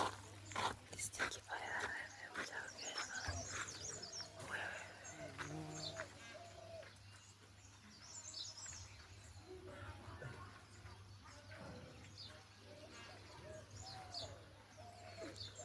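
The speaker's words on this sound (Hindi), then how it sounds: "चिड़िया चहचहा रही है" Birds chirp and coo in the background of an outdoor scene in Uttarakhand while people talk nearby and footsteps sound on stone, with a low steady hum underneath.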